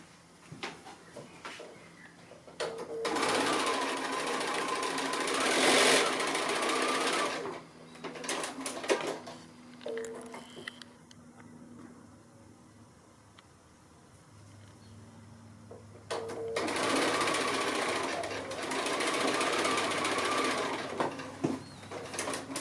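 A sewing machine stitches quilt block rectangles in two loud, steady bursts of close mechanical whirring, separated by a quieter pause with small handling sounds.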